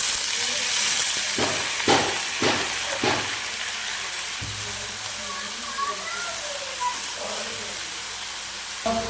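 Spinach greens drop into a pan of lightly fried potato and eggplant with a few quick rustling thumps, then a steady sizzle and hiss of frying continues beneath faint kitchen clatter.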